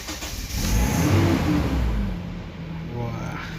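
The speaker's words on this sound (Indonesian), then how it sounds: "Kita dengerin nih suara mesin bensin legendarisnya ini." A 2005 Toyota Kijang Innova 2.0 petrol engine with automatic transmission turns over and revs up, a rough mid-pitched roar that rises, eases off, then climbs again, with a voice talking faintly underneath.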